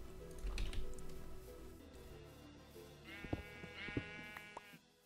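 A sheep in the video game Minecraft bleats twice in quick succession, clear and close, while computer keys tap and mouse clicks sound in the background.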